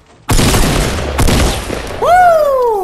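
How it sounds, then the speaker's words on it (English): Tactical shotgun blasts in Fortnite, a battle royale video game: a loud close shot followed by a second boom about a second later, then a rising whistling tone as the echo fades. "that was a beautiful tac shotgun"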